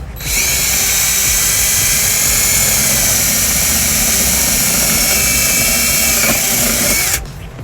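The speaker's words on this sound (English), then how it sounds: "I'll go ahead and just drill out the other side here." A power drill whirs loudly and continuously at close range for about seven seconds, then cuts off, drilling during trailer wiring installation on a 2007 Kia Sorento.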